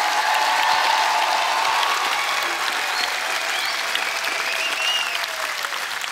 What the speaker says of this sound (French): j'aimerais qu'on fasse un tonnerre d'applaudissements aux 62 apprentis de cette finale 2024